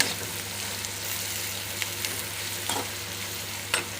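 Grated raw mango and turmeric fry in a pan for mango rice, giving a soft, steady sizzle with a few light stirring scrapes and clicks, fairly quiet and with no voices.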